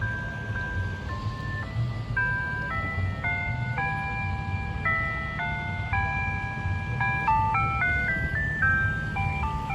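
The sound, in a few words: Wolo 345 ice cream truck playing its tune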